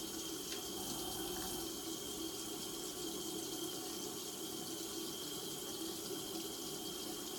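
Water runs steadily from a tap, a constant splashing hiss with no pauses, close and fairly quiet.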